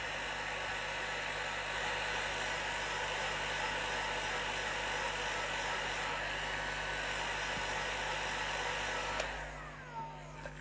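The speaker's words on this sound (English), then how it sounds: "Here's my heat gun, just normal heat gun. It's got two settings." A heat gun runs on its lower setting with a constant, steady whoosh, close and even for about nine seconds, then cuts off with a brief click.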